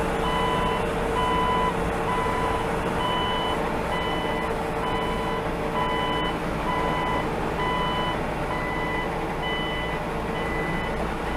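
A nearly new 2021 Daewoo Prima 15-ton dump truck's engine drones steadily while a repeating reversing beep sounds at regular intervals, loud and close, as the dump bed is lifted quickly.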